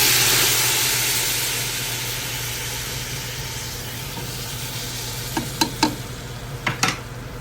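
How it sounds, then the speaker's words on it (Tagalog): Broth poured into a hot pot while cooking balbacua gives a loud, steady sizzle and hiss that fades gradually, followed by a few sharp clinks and knocks of utensils near the end. "Ngayon, lagyan natin yung broth."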